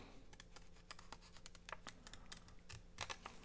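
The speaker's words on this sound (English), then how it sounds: "So I'm just going to round it with my scissors" A quick series of crisp, dry snips of scissors rounding paper corners, one after another in an uneven rhythm, close up and fairly quiet.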